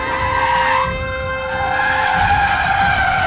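A car approaches and drives past on a road, its engine and tires making a steady loud rumble with a rising whine and faint squeal throughout.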